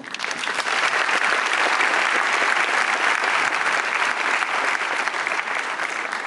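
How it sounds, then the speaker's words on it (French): Dense, sustained applause from a large audience at a Polytech Orléans graduation ceremony, many hands clapping together at an even, steady level throughout. "Je vous propose à la limite qu'on les applaudisse tous pendant quelques secondes."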